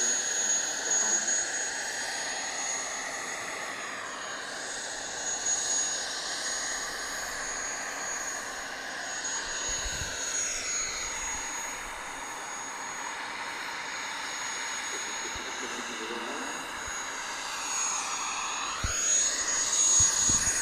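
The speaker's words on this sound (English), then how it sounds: "ending today's live stream will be the Supermarine Spitfire" A Supermarine Spitfire Mk XIX flies past at the Farnborough Airshow, its engine a steady distant drone that swells and fades slightly over the whole stretch, heard from the crowd with no talking.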